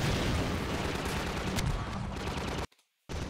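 Gunfire in the video game Half-Life 2, a dense continuous burst of loud shots filling the clip before cutting abruptly to near silence and resuming, with no speech.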